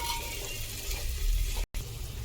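Chopped onion frying in a clay cooking pot gives a steady, close, broadband sizzle with soft low rumble, briefly cutting out near the end before resuming.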